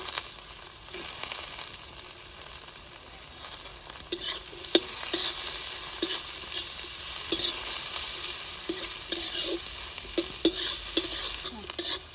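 Chopped onion tossed into a hot pan over a wood-fired stove, sizzling steadily and close with scattered scrapes and stirring taps throughout; no voices.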